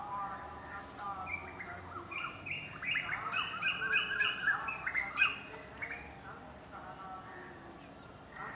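Large birds in a crow tree near a Buddhist temple guest house in Bodhgaya make repeated quacking, duck-like calls in a busy chorus that builds and fades, with a person talking at moderate distance.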